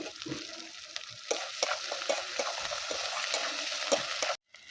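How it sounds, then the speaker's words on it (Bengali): Ground spice masala with chopped tomato sautéed in a pan with oil, a dense continuous sizzle broken by repeated spatula scrapes and stirring clacks, close and fairly loud until a sudden cutoff near the end. "ভালো করে মশলাটা কষিয়ে নেবো। টমেটো কুচি দিয়ে দেবো"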